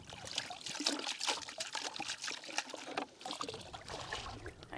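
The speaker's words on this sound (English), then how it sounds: "he pours the sample into a mesh bag and washes the mud away" Water runs and trickles steadily through a mesh bag as mud is rinsed from a sediment sample outdoors on Cape Cod, a continuous splashing wash heard close up with no talking.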